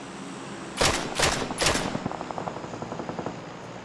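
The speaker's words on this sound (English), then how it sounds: "somebody's shooting at us" Gunfire in PUBG near a beach: three loud, close bursts of automatic fire in quick succession, followed by a quieter, rapid string of distant shots that tapers off.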